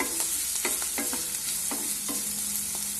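Onion, ginger and garlic sauté in a hot pan, a steady sizzle broken by repeated scraping clinks of a spoon stirring the mixture, close and clear with no talking.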